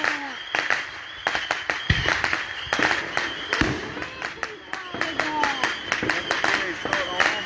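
Rapid July 4 fireworks barrage, dense crackling pops and repeated sharp bursts at a moderate distance, continuous for several seconds with a couple of deeper booms, voices of onlookers faintly mixed in.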